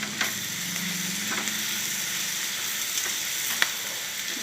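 Cluster beans dry-roasting in a pan give a steady, close crackling sizzle with occasional sharper ticks from stirring, continuous and without voices.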